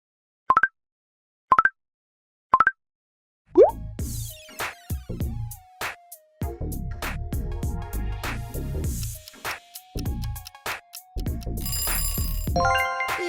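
The Snapchat app notification: three short bright chirps spaced evenly, then a busy stretch of overlapping synthetic tones and plucky electronic blips, like a phone app alert followed by music.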